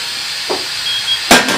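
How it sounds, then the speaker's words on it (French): A wood-fired cooking apparatus lets out steam in a steady, close hiss that runs the whole time, broken by a short puff and then a louder burst of hissing near the end, with no talk. "il faut essayer de récupérer la vapeur."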